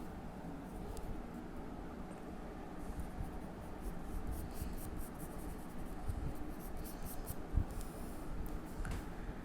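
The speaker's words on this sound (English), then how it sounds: "So for the hand, I'm going to draw somewhat a rough sketch like this" A pencil sketches the rough outline of a hand in an anime-style drawing of Goku, making a continuous close scratching and rubbing on paper with short strokes and one sharper tap near the end.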